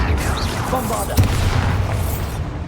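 A Bombarda blasting spell explodes in Hogwarts Legacy, with a booming blast near one second over a rumbling battle din.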